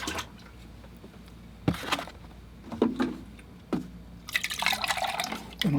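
Murky watercolor paint water is emptied from a container: scattered drips and splashes, then a longer sloshing pour at the end, fairly close and with no voices.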